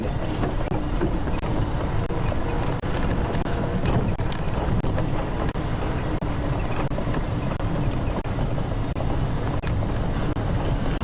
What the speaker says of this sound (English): Oh, here comes that cold wind.